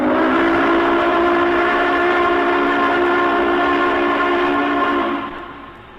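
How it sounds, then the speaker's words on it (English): Union Pacific Big Boy steam locomotive sounding its Hancock long bell three-chime whistle in one loud, sustained chord that holds steady for about five seconds, then fades out. "The locomotives were equipped with a Hancock long bell 3-chime whistle."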